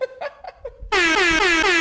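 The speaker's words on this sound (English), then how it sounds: "It's the air horn." A loud, sustained air horn blast comes in abruptly and holds steady to the end, following a few short voiced sounds or chatter.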